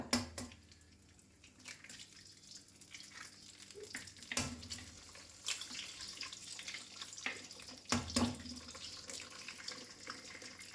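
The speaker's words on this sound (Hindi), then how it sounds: "चिकन को निकालने के बाद बाकी जो तेल बचा है उसमें मैं डाल दूंगी अंडा" An egg dropped into oil left in the pan after frying chicken for chicken chow mein sizzles with a continuous close crackle, with a few sharper pops and clatters of a utensil, and no one speaking.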